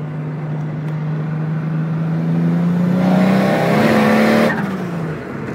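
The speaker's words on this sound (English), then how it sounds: "now we're revving the bitch out" A turbocharged RB30DET engine in a Nissan S14 with a screamer pipe, running 14 psi boost, revs up hard, its pitch climbing to a loud, strained roar before dropping off abruptly, close by.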